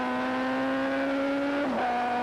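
High-pitched engine scream of superbike motorcycles racing on the Laguna Seca track, a loud sustained whine that drops in pitch near the end as a bike passes close by.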